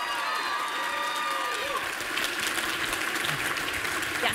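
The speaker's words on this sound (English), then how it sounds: "Let's give them a round of applause" An awards ceremony crowd applauds steadily, with a few cheers and whistles rising over the clapping, a continuous wash of sound throughout.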